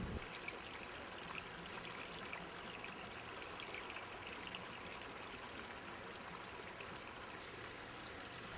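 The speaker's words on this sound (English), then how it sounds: "we add a spray bar to flow water over the top tray" Water from a spray bar pours over the top tray of a homemade trickle filter tower, a steady, faint, continuous splashing trickle with no pauses and no voices.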